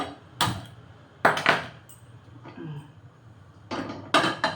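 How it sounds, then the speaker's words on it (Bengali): A metal kadai is set down on a stove, giving several sharp clanks and scrapes of metal against metal in separate bursts, close and fairly loud against a quiet room. "কড়াই বসিয়ে দিলাম"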